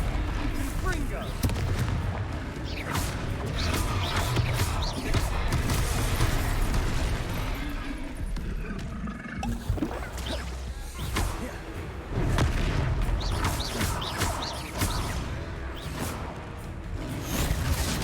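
Repeated fiery Confringo spell blasts burst during a troll fight in the Hogwarts Legacy video game, loud booming explosions with whooshes, layered over continuous combat effects and game music throughout.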